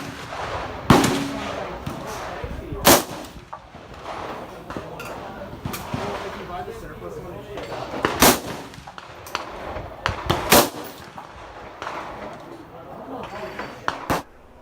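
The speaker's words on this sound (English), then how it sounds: "watch my coworker take a few shots with his AR" AR-15 rifle shots ring out at the Koko Head range: about five sharp, loud cracks spread unevenly over a steady outdoor background of wind and faint murmuring.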